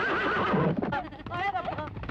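A horse neighs loudly and close in a Hindi film scene, a shrill wavering whinny with a few hoof clops mixed in.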